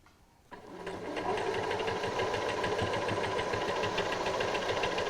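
A sewing machine stitches a cushion seam, starting up after a brief quiet moment and then running in a steady, fast, even whir at close range with no talking.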